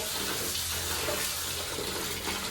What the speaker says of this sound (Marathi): सर्वात आधी नागली स्वच्छ 3-4 पाण्याने धुवून घ्यायची